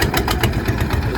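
A river trawler boat's engine chugs loud and close in a steady, rapid pulsing throb with a deep rumble underneath, with no voices.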